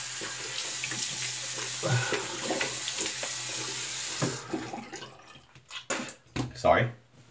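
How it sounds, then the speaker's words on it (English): Bathroom tap running steadily into a sink for a rinse after a shave, a loud continuous water rush for about four seconds before it shuts off, followed by splashing and dripping as a face is rinsed, with someone speaking over it. "Let's get to a rinse."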